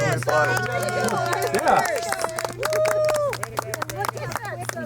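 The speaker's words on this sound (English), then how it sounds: "You're applauding." Outdoor crowd at Glendo State Park, Wyoming, just after the August 21, 2017 total solar eclipse: scattered sharp claps and cheers mixed with excited chatter from several people nearby.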